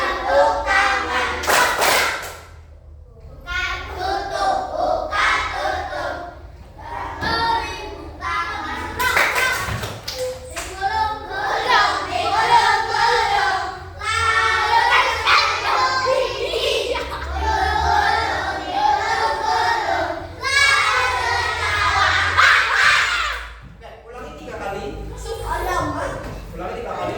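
Children clapping hands in an open-close hand game in an elementary school Indonesian language class, sharp bursts of claps alternating with chanted voices and an adult leading, repeated in rhythmic rounds across the whole stretch.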